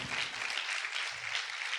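A church congregation claps loudly for the Lord during a sermon, a steady, bright wash of applause lasting under two seconds, with faint low rumbles beneath it.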